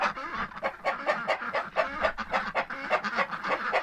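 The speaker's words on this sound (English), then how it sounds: "Oh, that's my new favorite rooster back there." Rooster and hens in a straw-filled coop in extremely cold weather, giving a busy, overlapping chatter of clucks and soft calls at moderate level throughout.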